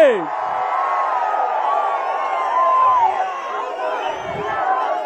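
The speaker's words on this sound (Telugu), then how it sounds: "స్వాగతం చెప్పండి గట్టిగా, చప్పట్లు కొట్టి." A large crowd cheers and roars in welcome at a Telugu Desam Party rally in Gurazala, Palnadu district, a sustained, swelling mass of voices with whoops rising and falling, with little distinct clapping.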